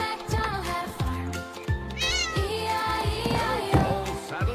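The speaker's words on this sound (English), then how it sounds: "Aren't you just the cutest cat in the whole county?" A cartoon cat in an animated Old MacDonald farm song meows, rising mewing calls over a bouncy rhythmic musical backing with steady thumping beats, close and clear throughout.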